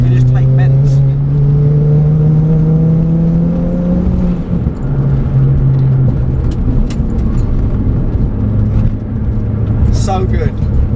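A car fitted with BC Racing coilovers and big brakes drives hard through bends, its engine note rising and falling in a loud, steady whir close by throughout.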